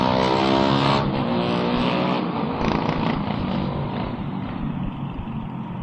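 Heavy road traffic with cars and motorcycles, heard by a delivery motorcycle rider crawling through a jam: a loud, steady wash of engine drone and idling motors close by, with no talk.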